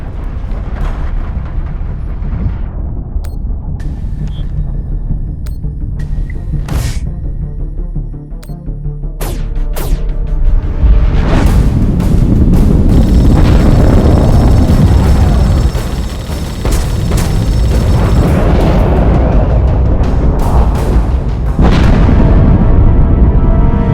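Torpedo explosions in The Expanse space game: heavy, loud booming blasts rolling one after another, broad rumbling detonations swelling and sustaining over a continuous roar with scattered sharp crackles, no speech.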